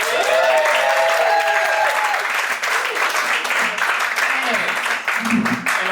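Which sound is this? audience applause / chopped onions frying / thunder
audience applause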